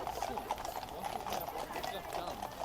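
Horse Guards cavalry horses clip-clopping along a road, a steady rapid patter of hooves that stays busy and fairly distant beneath traffic and people talking throughout.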